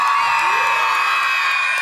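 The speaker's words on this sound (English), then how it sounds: "quick visits to local elementary schools where screaming students welcome the riders" Elementary school students scream and cheer to welcome charity bike riders, a dense, shrill crowd roar with high whoops held steadily throughout.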